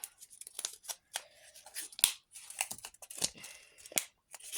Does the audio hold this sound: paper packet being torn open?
yes